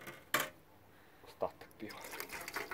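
Leftover beer splashes and trickles quietly into a cooking pot of simmering water, onion and fat, with a few brief pours between soft kitchen noises.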